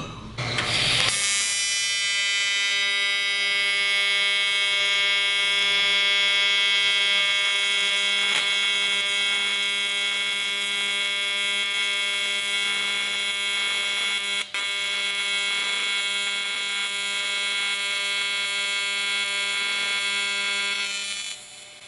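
A Fronius MagicWave 230i AC TIG welder runs a steady buzzing arc at 150 amps, 200 hertz with a hard square wave, powered from a 120-volt outlet through a 50-foot extension cord. The loud, even tone holds for about twenty seconds with no talk.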